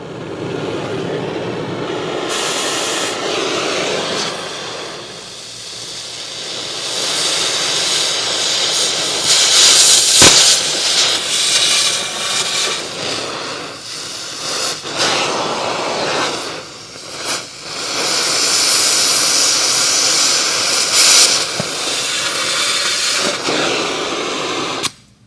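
A torch roars loud and steady as it cuts a small hole through metal, with a broad hissing rush that surges and dips across the cut and a brief sharp crack partway through.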